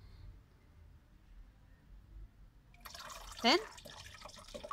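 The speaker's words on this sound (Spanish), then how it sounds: "Le vamos a ir agregando más agua." Water is poured into the reservoir of a homemade multiple self-watering system, a soft trickle and splash that swells near the end, with a brief spoken word over it.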